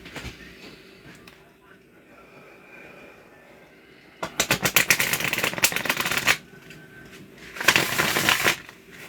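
Tarot or oracle reading cards being shuffled in two bursts of rapid crisp riffling, a longer run then a shorter one, set back slightly from the microphone after a quiet stretch.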